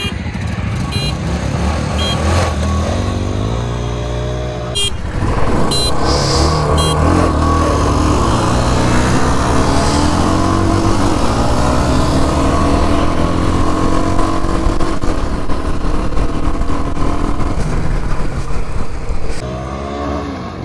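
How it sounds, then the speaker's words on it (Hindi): A Royal Enfield and a Jawa Perak motorcycle drag racing, their engines droning and revving loudly and steadily together, with the pitch rising as the bikes accelerate, close by and continuous throughout. "तो अब मैं चला रहा हूँ गुन्नू की रॉयल एनफील्ड और चला रहे मेरी पेराग"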